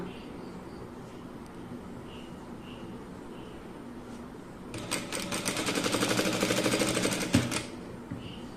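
An electric sewing machine stitches fabric in one fast, steady run lasting a few seconds, close and buzzing, preceded by quiet room tone with faint ticks.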